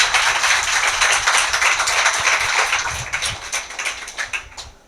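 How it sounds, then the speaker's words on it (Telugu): A congregation claps loudly together during a fasting prayer meeting. The dense, sustained applause lasts a few seconds and then thins into scattered, fading claps. "దేవునికి బిగ్గరగా ఒకసారి చప్పట్లు కొట్టి దేవుని నామాన్ని మహిమపరుద్దాం."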